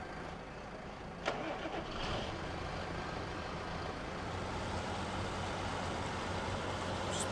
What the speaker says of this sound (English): So we'll move the tractor out of the way.